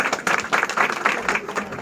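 Applause from an audience at a Samajwadi Party political rally, a dense spell of clapping that stays fairly steady throughout, with faint voices mixed in.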